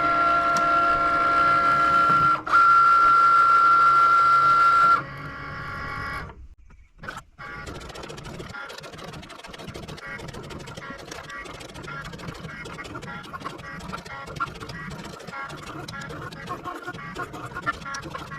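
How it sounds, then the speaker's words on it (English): A small Cricut vinyl cutter works out a decal: a steady motorized whine with a tonal hum for the first few seconds, a brief pause, then irregular clicking, shuffling carriage movements and faint mechanical chatter. "I'm going to give a go at cutting it out on the wife's little vinyl cutter"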